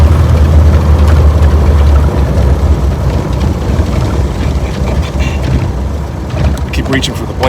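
Worn engine of a 1926 Oakland vintage car running at modest revs, a constant low throbbing hum with a rattly mechanical texture, steady and fairly loud throughout.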